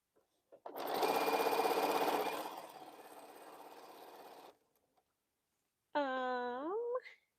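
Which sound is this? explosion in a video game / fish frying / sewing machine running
sewing machine running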